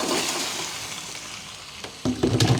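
Adobo ingredients sauté in a hot pan with a steady broadband sizzle, then a few louder scraping, clattering stirs near the end; no voices.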